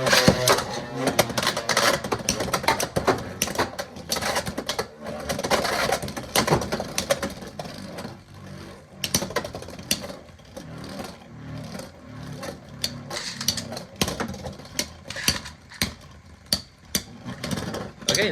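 Beyblade X tops spinning and clashing in a plastic stadium, a continuous whirring grind with sharp, rapid clicks and knocks as the tops collide, close and busy throughout.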